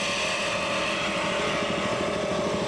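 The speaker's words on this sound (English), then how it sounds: "Listen to the engines." Racing powerboat engines, including the number 7 Arneson Special, roar at full throttle during a 1983 APBA race at Coral Gables, a dense, steady, loud drone that never lets up.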